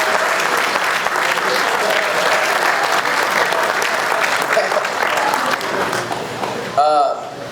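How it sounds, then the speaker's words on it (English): Wedding guests clap in a sustained round of applause that fills the room at steady strength, with a brief clatter near the end as it tapers off. "Can we get a round of applause for them?"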